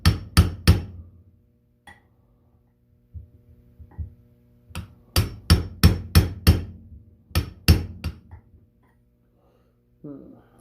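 Sharp metallic hammer blows drive a seal into a Toyota rack and pinion housing, about a dozen loud, close strikes in quick clusters with short silent gaps between them.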